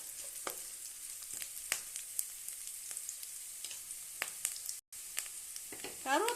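Onions and curry leaves fry in a pan for spinach poriyal, giving a steady, close sizzle with scattered crackles and pops and a brief stir near the end.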